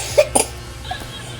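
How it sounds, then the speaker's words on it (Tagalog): A child's couple of short coughs in quick succession, followed by a faint softer sound, fairly close. "umubo yung anak ko"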